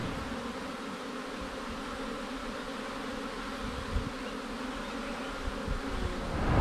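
Honeybees swarm in busy flight around beehives at an apiary in the early afternoon, a dense steady buzzing drone that holds evenly throughout with no voices.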